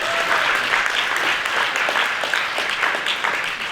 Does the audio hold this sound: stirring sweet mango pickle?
no